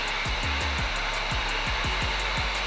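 A heat gun is aimed at a Glock 19 slide to bring out its front and rear serrations. It makes a loud, steady close airflow roar with a repeated low rhythmic clicking running under it, and nobody talks.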